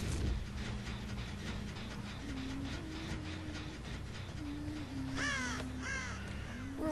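Crows caw repeatedly in Dead by Daylight, several harsh calls rising over a steady mechanical drone with a rhythmic low rattle like rolling rail cars, the loudest cluster of caws near the end.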